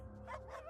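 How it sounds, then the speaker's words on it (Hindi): Dogs bark in the distance on a quiet night, giving one or two short, faint barks over a low background hum. "दूर कहीं कुत्ते भौंक रहे थे।"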